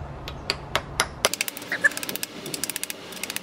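A bearing seal is pounded in by its outer sleeve during a BMW E34 S52 drivetrain install, giving a few spaced hammer blows that speed up into a quick, sharp metallic tapping run.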